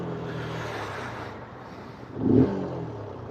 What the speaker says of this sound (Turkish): Bir garip geldi motorun sesi. Sanki kükrüyor.